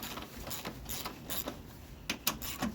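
A hand ratchet clicks in short bursts while loosening the cylinder head bolts on a snowblower engine, quiet close clicking with pauses between strokes.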